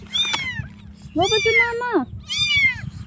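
A stray cat found on the road meows three times, drawn-out and wavering, close and clear, with a person talking briefly in Filipino between the calls.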